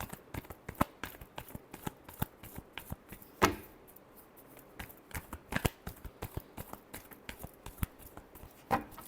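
Tarot cards are shuffled over and over in a rapid, uneven run of crisp riffles and soft slaps. The sound is close and quiet, with one or two sharper bursts standing out and no talking.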